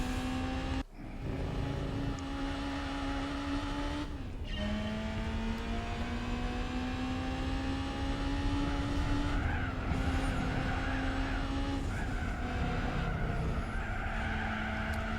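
Race car in Gran Turismo 4 during a license test with understeer, its engine note climbing steadily through gears with brief shift dips while sustained tire squeal runs underneath, loud and continuous.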